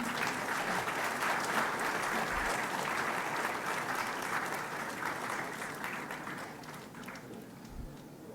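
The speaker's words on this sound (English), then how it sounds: "A round of applause for them." An audience at a RISC-V technology symposium applauds prize winners, dense sustained clapping from a large crowd that starts strong and gradually tapers off over several seconds.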